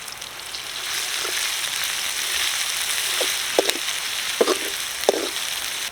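Garlic, turmeric and ginger-garlic paste fry in hot oil in a pan for Telangana-style gongura boti curry, making a loud continuous sizzle with a few soft clinks and stirring bumps in the second half.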